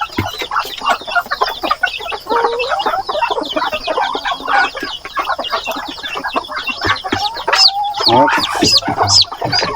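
Chickens cluck densely and continuously near a farm brooder, many overlapping calls close by, with a brief voice speaking faintly underneath.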